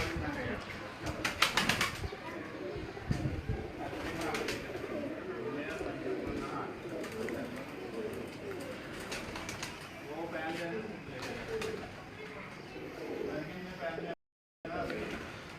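Pigeons coo and flap their wings on a rooftop in Madina Town, Faisalabad. Bursts of wingbeats come early on, then steady bird sounds continue close by, with people talking over them throughout.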